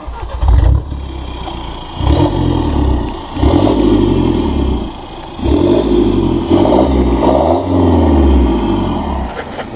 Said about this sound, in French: on va filmer le cold start, enfin le démarrage de la voiture.